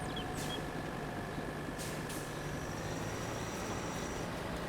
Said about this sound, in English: You can hear the little Kubota air brakes